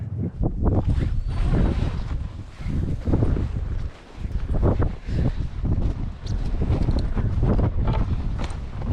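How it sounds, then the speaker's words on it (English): Strong wind blowing outdoors in Alaska, a loud, heavy rumble that buffets the microphone in rolling gusts, briefly easing once before surging again, with no speech. "Wind was still pretty bad."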